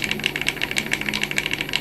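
A three-phase electric motor spins at low speed, giving a close, steady pulsing whir with a regular rattling beat and no voices.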